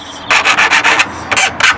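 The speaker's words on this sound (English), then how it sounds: "A file for filing the ends of the track" A metal file rasps on the ends of model railway track rails in a rapid run of short strokes, a pause, then a few more strokes, close and fairly loud.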